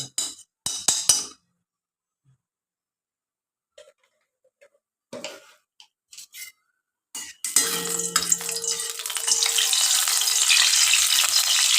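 Ghee heated in a frying pan for a chicken dish bursts into a loud, steady sizzle after a few scattered clinks and taps, the frying hiss continuing close and uninterrupted to the end.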